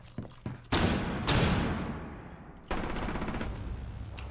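Rapid bursts of automatic gunfire in Rainbow Six Siege, a few light shots followed by loud sustained volleys with a short gap between them, sounding close.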